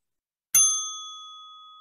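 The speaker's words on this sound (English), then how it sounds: "That's the bell sound." A single bell ding marking the end of a timed pitch at a virtual pitch night, struck once and ringing with a clear tone that slowly decays over nearly two seconds, heard alone.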